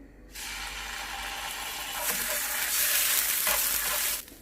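Ginger garlic paste sizzling in hot olive oil in a pan, a steady loud frying hiss that swells partway through with faint stirring scrapes, then cuts off abruptly near the end.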